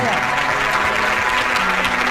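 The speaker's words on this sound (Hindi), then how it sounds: "जोर से तालियां बजाओ फिर पवित्र आत्मा के लिए" A church congregation claps loudly together during a Hindi worship service, the applause thick and continuous, with a voice and some music or tones running underneath.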